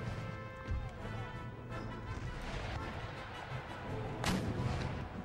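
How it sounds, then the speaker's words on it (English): Booming howitzer artillery fire in the Empire Total War strategy game, a few heavy thuds and one sharp crack standing out from a dense bed of battle noise and distant gunfire. "Rely on these howitzers."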